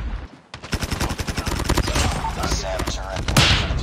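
Rapid automatic gunfire from a Bizon in COD Mobile, loud close bursts of quick repeated shots over about three seconds, with a brief sharper hit near the end.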